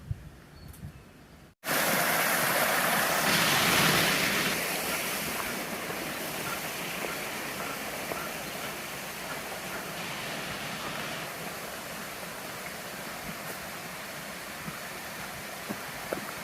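The James River rushes beside a hiking trail on the Appalachian Trail, a steady broad wash of flowing water with some wind noise, loud and close after a brief quiet start.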